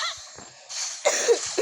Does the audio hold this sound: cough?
yes